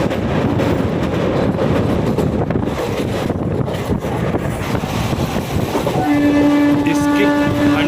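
Hazrat Nizamuddin to Coimbatore express train passing close by: a loud, steady rumble with wheel clatter and wind buffeting, and a sustained horn blast joining in near the end.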